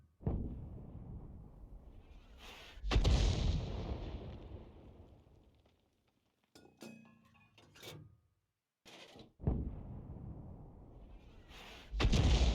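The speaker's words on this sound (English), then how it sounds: "Now he's firing an awful lot of ammunition at a target he can't see." Tank cannon fire in a video game: heavy booming shots ring out one after another, each followed by a long rumbling decay, with a short mechanical clatter between them.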